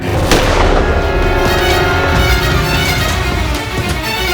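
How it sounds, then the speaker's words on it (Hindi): Loud, sharp gunfire bursts over a dense rumbling din, a prominent crack near the start followed by sustained booming reports. "इसके जाने के थोड़ी देर बाद ही गोली चलने की आवाज आई"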